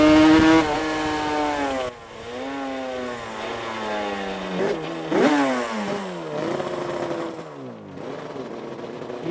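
A 1989 Pepsi Suzuki RGV500 two-stroke 500cc GP racing motorcycle revs up and down in a series of sharp, buzzing crescendos with gear-like pitch drops, loud and close, with no talk.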